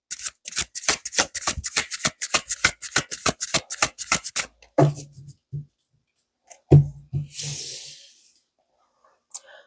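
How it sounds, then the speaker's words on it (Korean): Tarot cards shuffled by hand in a quick run of crisp riffling snaps for several seconds, then a pause and a few softer card slides and taps with a brief hiss, close and alone with no voice. "실시간으로 카드 셔플을 해서 뽑아보도록 할게요."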